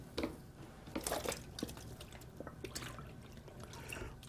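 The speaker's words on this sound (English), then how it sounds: "now we're just going to rinse the skin in clear water" Water splashes and drips softly as an animal hide is swished and rinsed in clear water, with irregular gurgles and trickles at close range.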